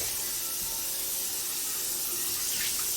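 Tap water runs steadily into a kitchen sink to soak a pan, a continuous close hiss and splash with no talking.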